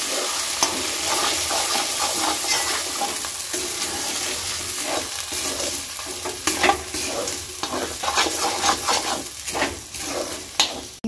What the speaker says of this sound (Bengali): কড়াইশুঁটিটা ভালো করে তেলের মধ্যে দিয়ে দেবো।